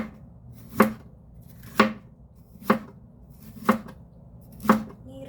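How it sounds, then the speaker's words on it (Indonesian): A knife slices beef on a cutting board for Chinese-style home cooking, with five crisp, evenly spaced knocks about a second apart, close and clear with no talk. "Irisnya jangan terlalu besar-besar ya."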